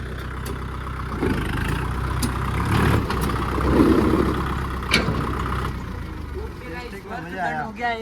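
A freshly serviced Kubota tractor engine runs nearby in a low, steady rumble under people talking.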